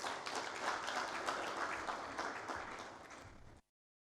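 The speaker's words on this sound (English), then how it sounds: "Please, let's welcome him with a round of applause." An audience at a national plastic waste pollution roadmap launch applauds a deputy minister of fisheries, steady, dense clapping that holds for several seconds, then cuts off abruptly into silence.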